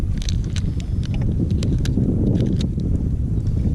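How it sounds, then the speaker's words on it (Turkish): Steady wind rushes over the sea on a chilly, slightly choppy day out fishing, a constant low roar buffeting the microphone with scattered brief splashes and knocks above it. "Bugün rüzgar var biraz serin ama yine en azından güneş kendini gösteriyor. Hafif dalgalı, rüzgarlı."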